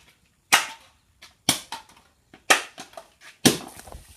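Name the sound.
soda can smashed and exploding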